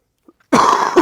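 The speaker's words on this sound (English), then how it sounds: "We still got them coughs going on." A single harsh cough bursts out close to the microphone after a short quiet stretch, followed by a brief second rasp of the throat, during a casual weekly gun shop rundown.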